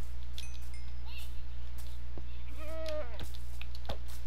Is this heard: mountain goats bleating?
yes